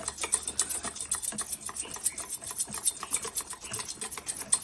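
A spoon beating dhokla batter in a bowl, producing fast, steady scraping and tapping strokes in a continuous close rhythm with no talk.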